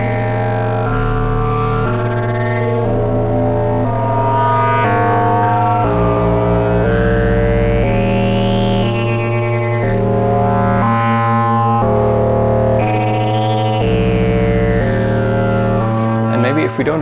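A steady synthesizer drone holds a low tone while bright harmonic notes step through a pitched sequence, with occasional rising and falling sweeps, loud and continuous.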